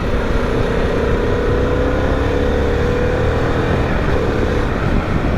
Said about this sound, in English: nice engine, nice punchy engine, nice and torquey